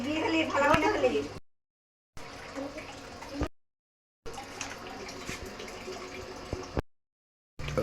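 Water being filled from a tap during a ritual water-collecting at a house, a steady rushing flow heard in choppy bursts broken by silent cuts, with people talking throughout.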